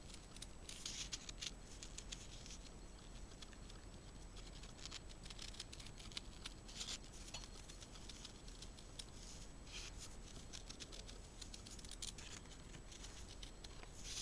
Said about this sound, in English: These are very good sharp scissors.